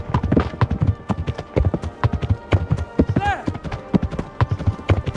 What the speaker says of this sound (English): There's no way they'll know that they're riding horses unless we just make it super, super, super loud.